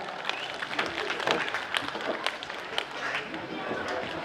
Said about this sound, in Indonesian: Tepuk tangan hadirin semuanya.